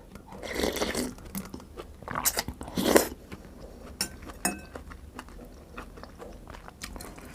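Crunchy dried squid is bitten and chewed up close, loud crisp crunches in several bursts, then quieter chewing with faint clinks of dishes.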